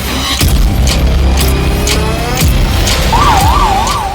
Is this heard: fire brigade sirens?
yes